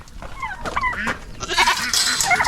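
Sheep bleating in a farm pen with a ram among them, several overlapping calls at close range, with louder, busier bleats toward the end.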